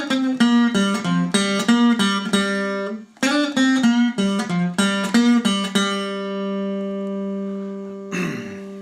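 An acoustic blues guitar picks the opening notes of a song, two quick repeated runs of plucked notes ending on a long ringing bass note, close and clear with no talk.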